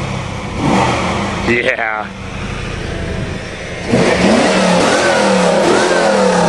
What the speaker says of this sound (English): the Californian that drove all the way out here is going to smoke his car